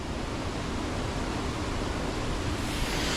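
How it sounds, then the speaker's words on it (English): The main waterfall at Jesmond Dene, a wooded valley near an old mill in Newcastle, pours out a steady, dense rush of water that stays loud and unbroken throughout, with no voices over it. "And there's the main waterfall."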